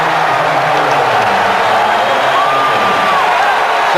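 A steady, loud roar of an arena crowd cheering at a 1998 Lakers versus Rockets basketball game, continuous throughout with a commentator's voice faintly underneath.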